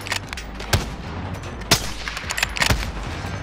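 Shots ring out in the Call of Duty: Modern Warfare video game as sporadic, sharp cracks spaced over a steady low background rumble, a few louder reports standing out among quieter distant fire.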